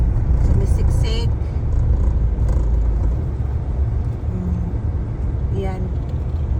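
Congested city street traffic in Butuan with many motorcycles and pedestrians crossing, a loud continuous engine rumble with vehicles passing close by and brief horn-like tones rising over the din.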